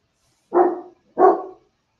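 Two separate dog barks, loud and close, about half a second apart, standing out against an otherwise quiet room.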